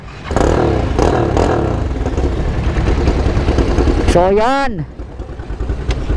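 A lowered Yamaha Mio scooter's engine rumbles and revs nearby with clattering mechanical noise, while someone talks over it and briefly imitates a rising whine.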